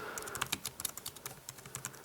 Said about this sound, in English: So here we go. Start typing.